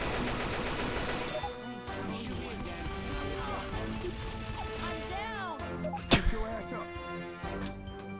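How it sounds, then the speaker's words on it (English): Rapid gunshots crack amid game music and ambience in Left 4 Dead, a cluster of sharp bursts with one louder crack near the end, under background voices. "Why did you shoot her?"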